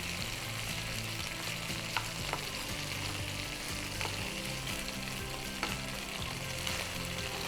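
Chicken pieces browning in a pan for a creamy malai chicken curry, a dense, loud, continuous sizzle with occasional faint clicks of a utensil, no voices.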